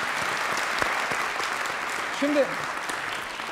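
A studio audience on a 1997 Turkish television variety show applauds in a steady, dense wash of clapping, with a voice briefly speaking over it near the end.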